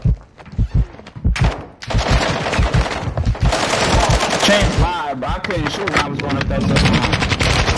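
Rapid automatic gunfire from a Modern Warfare 2 raid, dense bursts and sustained rattling fire that nearly fills the clip, with players talking over it.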